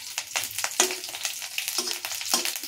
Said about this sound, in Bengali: লঙ্কাগুলো ফুটবে